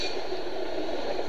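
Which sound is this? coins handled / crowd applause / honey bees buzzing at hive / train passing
train passing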